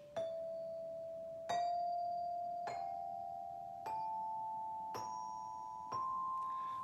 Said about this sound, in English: I have my tone bells set up. These bells make a sound.